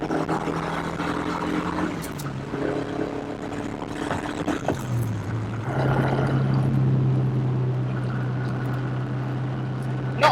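The engine of a Ford RS200 rally car roars under hard acceleration down the main straight at Dunton. Its steady, loud drone climbs in pitch, breaks briefly at a gear change, then settles into a sustained higher note, heard from inside the cabin.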